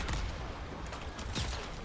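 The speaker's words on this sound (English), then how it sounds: "Gunshots." Gunfire in the fighting game Mortal Kombat 11: a dense, rattling burst of shots runs through the whole moment with no gap, loud and close, with no clear talking over it.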